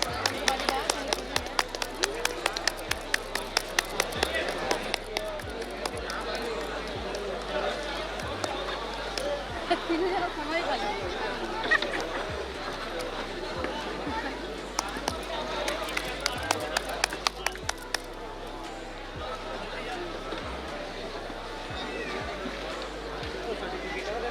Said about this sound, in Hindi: A huge round of applause for Purnia district and Gopalganj district toppers.